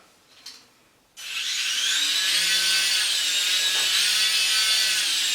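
Small toy helicopter motor from a cheap online toy shop starts up with a sudden high whine and keeps buzzing steadily and loudly at close range, with no talk over it.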